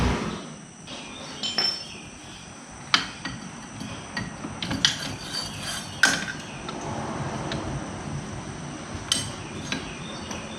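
A ratchet snugs down a nut on a tractor, giving scattered metallic clicks and clinks at close range against a quiet background.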